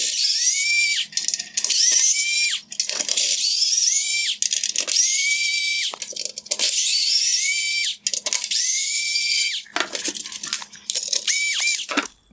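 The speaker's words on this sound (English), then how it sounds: "I'm going to remove the 6 T15 Torx screws holding the black plastic" A power screwdriver backs out T15 Torx screws from the black plastic bracket on a 2016-2020 Tesla Model X LED headlight, its high whine running in repeated bursts with short gaps between each screw, loud and close with no talk.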